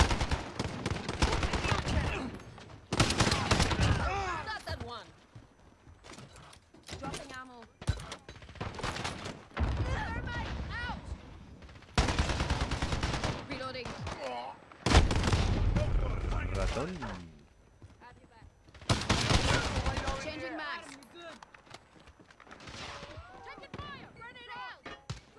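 Rapid gunfire bursts from Call of Duty: Modern Warfare, AN94 rifle, loud repeated volleys with pauses between them, while players talk over the action throughout.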